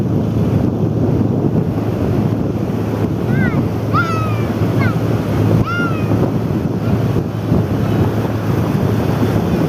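Sea waves break and wash along Harihareshwar beach in a steady, loud roar mixed with wind buffeting the microphone, while a few faint bird calls chirp in the distance.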